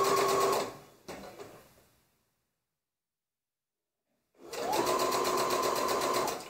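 A sewing machine hems sheer fabric in close, loud bursts of rapid stitching, stopping for a couple of seconds of silence before running steadily again.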